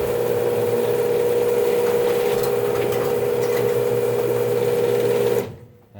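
Clutch Genie screw drive garage door opener running after repair, a loud, steady motor drone with mechanical whirring that stops abruptly near the end, no talking.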